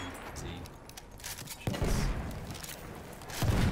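Sharp, isolated rifle shots from an M95 carbine sniper in Battlefield 1 crack out two or three times, each followed by a brief rolling tail, against quiet battlefield ambience.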